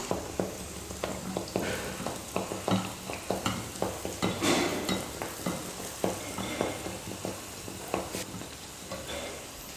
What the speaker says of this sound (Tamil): மாவை 1 கரண்டி அளவுக்கு எடுத்து எண்ணெயில் ஊற்றிக்கலாம்.